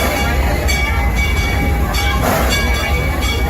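Excursion train at a Texas railroad event rolls along, loud and close, with steady rumbling wheels and metallic clatter and faint squeals as it slows toward a stop.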